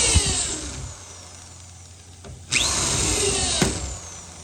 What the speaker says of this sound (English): Damn, drill bit just broke in there.